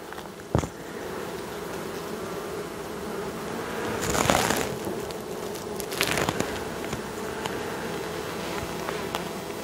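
A honeybee swarm being transferred into a hive in October buzzes in a constant close drone, with a few brief rustling and knocking handling sounds over the humming.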